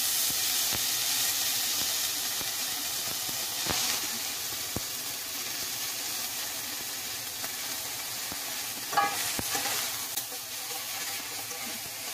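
Fenugreek leaves sauté in hot oil in a wok, giving a steady, dense sizzle with soft hiss throughout and a few faint clicks of stirring, heard up close with no talking.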